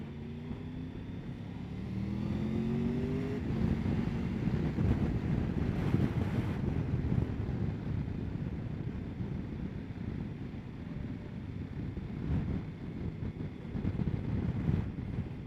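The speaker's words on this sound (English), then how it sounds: "Oh, it's a bit breezy across here." Wind buffets the microphone during a motorcycle ride on a country road, a steady low rumbling roar lasting throughout with a faint rising engine tone near the start, no talking.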